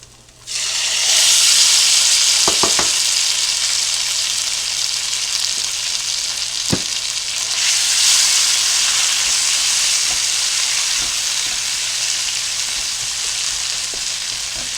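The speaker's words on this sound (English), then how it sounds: "We're going to go ahead and add the onions and the juices from the onions back into the pan here." Onions and their juices hiss and sizzle loudly and continuously in a hot skillet as they are stirred, with a few light scrapes and taps of the utensil against the pan.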